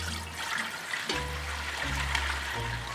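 Liquid poured into a cooking pot for a witch's brew, giving a continuous watery splashing and trickling sound with a low hum beneath it.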